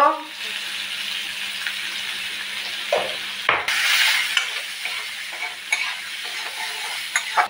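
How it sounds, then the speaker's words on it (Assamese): Potatoes frying in a pan with salt and turmeric, a soft continuous sizzle with occasional stirring scrapes and clinks, and a louder burst of sizzle partway through. "এনেকৈ আলুখিনি ভাজি আছোঁ"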